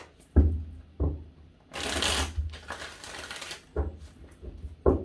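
A deck of tarot cards being shuffled by hand, with sharp riffling bursts and slaps in several separate rounds, close and clear with short pauses between them.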